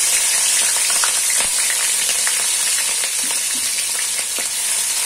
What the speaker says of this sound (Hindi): कढ़ाई में मैंने ऑयल डाल दिया है और अब उसमें मैं अदरक लहसुन का पेस्ट ऐड करूंगी।